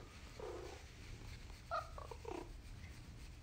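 Pet cat purring up close, a soft continuous rumble with a couple of brief meow-like chirps, quiet and without talk.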